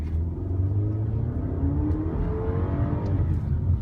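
A 2016 BMW X1 engine drones and rises steadily as it accelerates up a steep hill under strain, a continuous low rumble with a climbing pitch.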